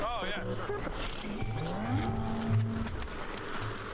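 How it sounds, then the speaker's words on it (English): Wasp drone enemies in the video game ARC Raiders drone with a steady engine hum and rising whine that rides over busy game ambience, moderately loud, with people talking at times. "I hear the engines of some wasps."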